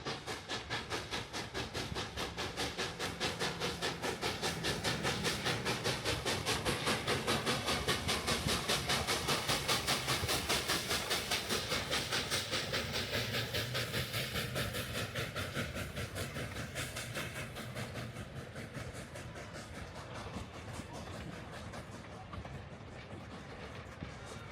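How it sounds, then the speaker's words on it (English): Nevada Northern Railway steam locomotive No. 81 chuffs in a rapid steady rhythm with hissing steam as it climbs slowly out of a tunnel into Robinson Canyon, loud and sustained, gradually easing toward the end. "Engine 81 emerges from the tunnel and starts its slow climb into Robinson"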